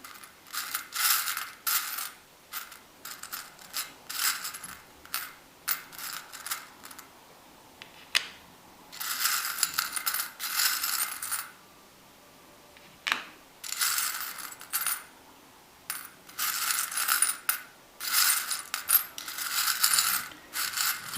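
Small metal oracle card charms being mixed by hand, giving bursts of bright jingling, clinking and rattling close up, separated by brief quiet pauses throughout.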